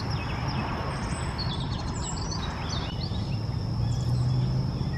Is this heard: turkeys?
yes